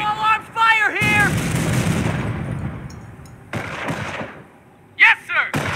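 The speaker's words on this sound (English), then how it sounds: "Small arms fire here!" Small arms gunfire rattles in a World War II battle in the game Company of Heroes, loud bursts of rifle and machine-gun shots near and far, with shouted voice lines from soldiers before and after the firing.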